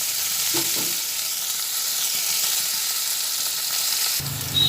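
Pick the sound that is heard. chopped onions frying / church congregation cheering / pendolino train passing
chopped onions frying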